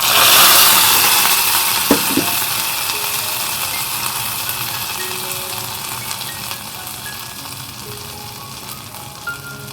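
Cashews and raisins fry in ghee in a kadai, sizzling loudly at first, then settling into a softer steady crackle with a few sharp clinks of stirring.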